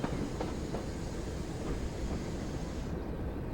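A heritage train rolls slowly along the West Somerset Railway in Train Sim World, a steady mid-level rumble of wheels on rails with faint rhythmic clicks over joints and no talk.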